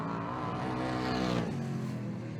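Race cars at a motor racing club meeting roar past, a loud sustained engine drone rising in pitch then dropping sharply as they go by, continuing as a steady rumble afterward.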